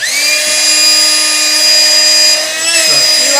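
Small electric air inflator whining loudly right at the microphone, a steady high-pitched motor drone that dips in pitch near the end as it is switched off.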